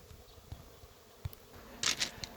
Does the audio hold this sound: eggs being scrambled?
no